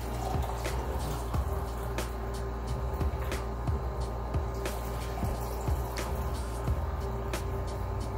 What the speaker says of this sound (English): Now we're going to pour up the water here.